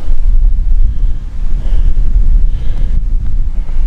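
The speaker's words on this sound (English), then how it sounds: "The wind's on my back at the minute, as I say, from the west" A strong westerly wind gusts on the coast at Craster, a loud, continuous roar buffeting the microphone with no voices.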